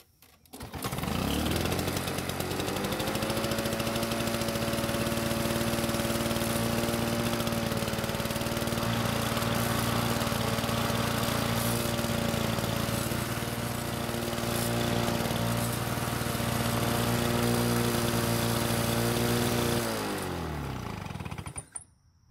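A Lawn-Boy self-propelled lawn mower engine starts up and runs at a steady, loud drone for about twenty seconds, then winds down and cuts off near the end, with no talking.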